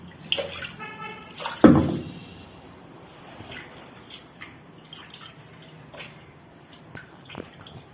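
Water is poured into a pan of crushed fish peera while a fish dish cooks at home: a short, loud splash, then a soft running, trickling wash under kitchen noise.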